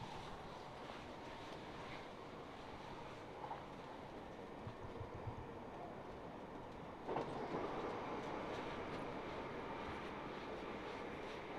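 Inside a Southern passenger train on the Dorking to West Croydon service, a quiet, steady rolling rumble fills the carriage, with a slight surge in the noise partway through.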